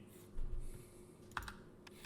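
Keyboard typing from the Xbox remake of the visual novel Ever17: a few sharp, separated key clicks arrive in small bursts over a quiet background, with no one speaking.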